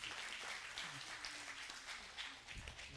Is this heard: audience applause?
yes